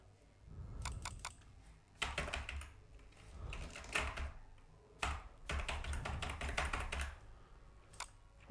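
Fingers tap out a mobile number on a computer keyboard, with quick clustered keystrokes in bursts and short pauses, close and fairly quiet.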